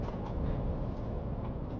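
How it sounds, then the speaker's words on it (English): Strong storm wind gusts blow outside during a storm in New Zealand, making a continuous low, broadband rumble that swells and eases without any other sound. "it's really big gusts of wind blowing everything around outside."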